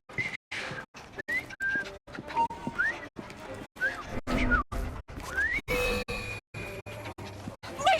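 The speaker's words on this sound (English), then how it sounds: "I've just learned to whistle" Whistling in the Victorian London game Assassin's Creed Syndicate, a series of short rising and sliding whistled notes mixed with choppy character speech and in-game background sounds.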